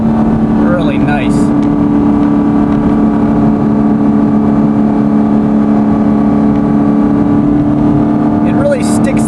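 A Chevrolet Corvette Grand Sport engine in sport mode gives a loud, steady droning roar from inside the car, with a few brief higher-pitched sounds near the start and end.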